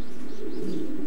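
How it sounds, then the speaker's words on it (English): Racing pigeons coo inside a loft, a close, low throaty rumble lasting about a second with no talk over it. "We've got Ronnie Miller's pigeons here."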